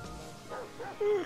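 Dogs barking and yipping in the GTA V video game, a few short barks ending in a sustained whimpering yelp, moderately loud with some voice nearby.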